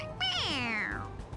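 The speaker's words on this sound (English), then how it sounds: "It meows when you press on its head." A toy cat from Persona 5 Royal lets out a single clear, drawn-out meow when its head is pressed, sliding downward in pitch and fading, with no one talking over it.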